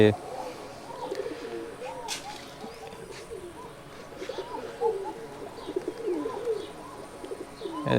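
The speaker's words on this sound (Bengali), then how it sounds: "এখন হচ্ছে দুপুরে আমি কবুতর উড়াচ্ছি" Giribaj pigeons flying in the afternoon coo in soft, repeated low calls close by, with occasional brief flutters, over a quiet outdoor background.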